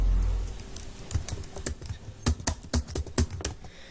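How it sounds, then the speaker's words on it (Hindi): Fingers type a name on a computer keyboard, a quick, irregular run of crisp key clicks, close and clear with no talking. "चलिए मैं यहाँ पे अब नाम को टाइप कर देता हूँ।"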